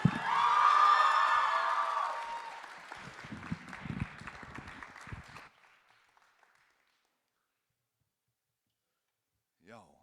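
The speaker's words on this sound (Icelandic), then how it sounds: "svo má alveg klappa einu sinni enn" Audience applause and cheering at a music contest, the Músíktilraunir band competition, loud and dense for about five seconds, then thinning to scattered claps and fading into near silence, with a brief voice near the end.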